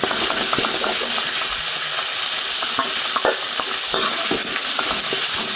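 Loud, dense stir-frying in a wok with chili and garlic for a Thai basil and century egg dish, a constant close sizzle broken by rapid scraping and clattering strokes of the spatula, with no voices.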